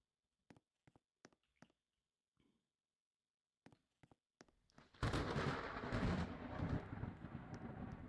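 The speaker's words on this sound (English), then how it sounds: "Oh, the old lightning sound effect" Old lightning effect from the Apocalypse Rising video game: a few sharp, faint clicks and cracks, then a sudden loud, broad thunderous roar that rumbles on steadily to the end.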